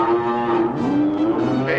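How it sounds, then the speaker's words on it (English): A cow gives one long, drawn-out moo, loud and close, its deep voice bending slightly in pitch as it holds for nearly two seconds with no talk over it. "Now, that's a cow, and that's the sound of the bell."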